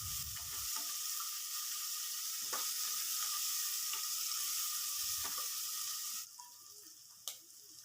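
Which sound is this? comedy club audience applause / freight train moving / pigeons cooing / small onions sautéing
small onions sautéing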